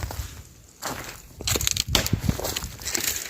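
Dry, brittle oak branches snapped by hand outdoors on a mountainside, giving a run of close, loud cracking and crunching breaks after a quieter opening, with several sharp snaps following one another.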